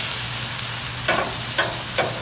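Ribeye steaks frying on a grill give a continuous close hiss and sizzle. A few short scraping knocks come from flipping and handling the meat, and no one talks.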